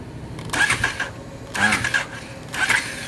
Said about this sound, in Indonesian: kunci kontak kita nyalakan dan kita starter.